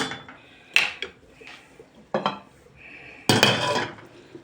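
Metal ladle scraping and clinking against a pot of meatball stew in a few separate bursts, close by, with quiet pauses between strokes.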